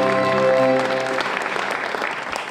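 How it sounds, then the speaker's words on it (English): Audience applause for Neil Roberts at the IBM Shield Competition in Buxton Opera House, a dense wash of clapping that swells and then thins out, with a sustained musical tone fading under it at the start. "So please, a round of applause for Mr."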